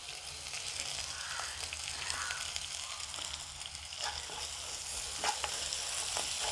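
Curry leaves tossed into sautéed onions in a pan for an eggplant curry, giving a steady close sizzle with occasional stirring scrapes throughout.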